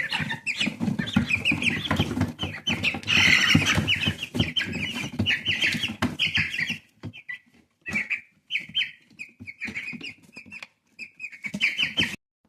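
Hens and chicks cluck and chirp continuously nearby, a busy overlapping chatter with short pauses toward the end.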